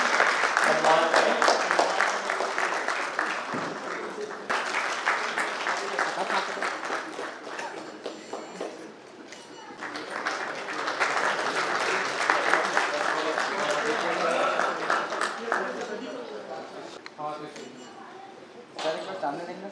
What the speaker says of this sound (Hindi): आप लोगों से कृपया जोर से तालियां बजाकर इनका सम्मान करें।